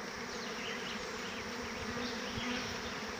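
Honey bee swarm moving into a bucket swarm trap on a sunny day, a dense, continuous buzzing hum of many bees close by, steady and alone.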